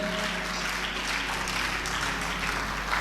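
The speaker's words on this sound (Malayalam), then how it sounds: "നല്ലൊരു കയ്യടി കൊടുത്ത ഈശോയ്ക്ക്." Dense, continuous applause from the audience at a Christian retreat at Carmel Mount Retreat Centre, Chethipuzha, an even wash of clapping that holds steady for about three seconds.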